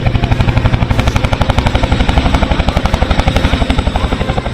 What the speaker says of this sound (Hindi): यहां पर लोगों के सबसे करीब चिनूक हेलीकॉप्टर आया।